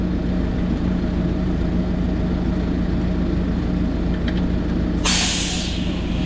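Compressed air bursts into a farm tractor-trailer's brake line as it is coupled, a sudden loud hiss near the end cutting over a steady low engine idle close by.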